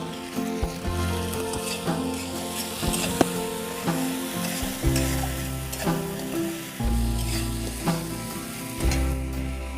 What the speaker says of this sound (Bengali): কষিয়ে নেব। কষানোর জন্য একটুখানি জল দেব।